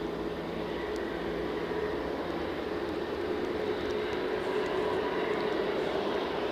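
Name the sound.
airplane moving at Edinburgh Airport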